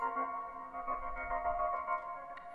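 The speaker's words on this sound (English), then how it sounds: "See, it kind of just makes it stutter." Melody in an FL Studio hip-hop beat chopped by a Gross Beat volume-ducking preset, giving a soft, steady stuttering pulse of sustained tones with a low rumble underneath, moderately quiet and without talk.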